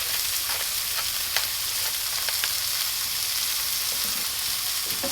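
Burger meat patty and ham sizzling steadily in a hot pan, a dense continuous frying hiss with occasional sharp pops and crackles, close and fairly loud throughout.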